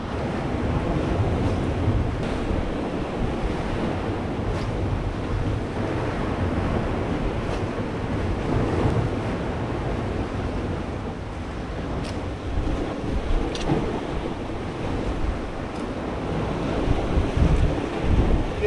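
Rough summer sea during a storm surge, with waves and surf crashing in a continuous loud wash, mixed with wind buffeting the microphone and no voices.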